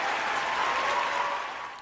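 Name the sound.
applause sound effect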